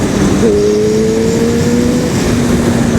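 A Honda CBR 1000RR Fireblade motorcycle engine responds sharply to a throttle blip, its note rising then holding a steady drone, loud and close throughout with no talking.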